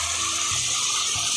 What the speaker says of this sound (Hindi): मसाले जले नहीं, इसलिए मैं इसमें थोड़ा सा यखनी डाल रही हूँ।